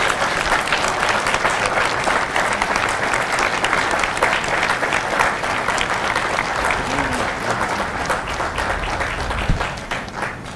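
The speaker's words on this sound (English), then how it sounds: "a round of applause for their dedicated service to Corps and country" Sustained audience applause at a Marine Corps recruit graduation ceremony for Fox Company at MCRD San Diego, a dense, steady wash of many hands clapping across an outdoor crowd throughout, with no speech over it.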